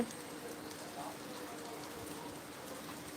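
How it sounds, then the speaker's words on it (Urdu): Rain falling outside a house, a steady soft patter of drops on surfaces, fairly faint and continuous throughout. "بارش کی آواز آ رہی ہے نا آپ؟"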